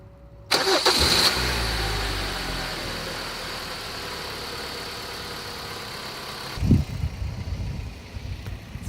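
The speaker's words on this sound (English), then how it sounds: "Now we start the engine." A car engine cranks and catches at the start, then settles into a steady, fairly loud idle for several seconds before a brief knock or thump near the end, with no talking.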